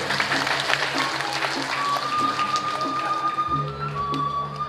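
Audience applause at a Balinese drama gong performance, a continuous wash of distant clapping from a crowd mixed with steady background noise and faint tonal sounds from the stage, no clear talk over it.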